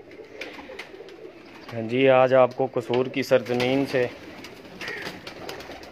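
Kamangar pigeons at a breeder's loft in Kasur coo in a low, rolling run of several calls, loud and close, with someone speaking before and after.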